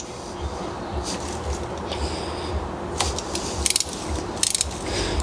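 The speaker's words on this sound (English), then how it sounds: "I'm going to work on cracking these loose" A deep 10mm socket on a torque wrench cracking diesel glow plugs loose gives a few short ratcheting clicks and sharp metallic snaps against a steady mechanical background, close and moderately loud.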